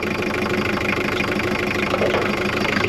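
A Daihatsu Fourtrak engine idles close by after a throttle blip, giving a steady, loud, mid-pitched rumble with a slight knocking texture throughout.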